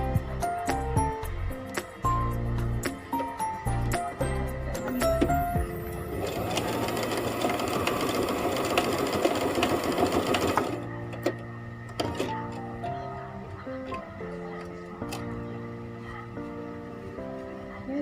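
A sewing machine stitching the fabric edges of a scrunchie, loud rapid mechanical whirring in several runs with pauses between, clicks and clinks in the gaps, and a long steady stretch of stitching in the middle.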